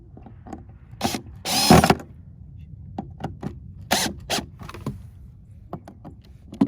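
Bolts being tightened while a low-voltage patio and landscape lighting transformer is mounted: short close bursts of ratcheting and driving, separated by sharp clicks and knocks, with pauses in between.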